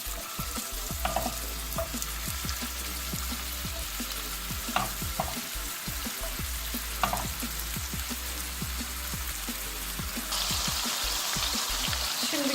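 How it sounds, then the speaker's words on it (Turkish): Meatballs fry in a few spoonfuls of oil in a hot pan, giving a steady close sizzle with scattered pops and crackles that grows slightly louder toward the end. "3-4 kaşık sıvı yağ ekledim ve köftelerimi bakıyorum kızmış. Atıp arkalı önlü kızartacağım."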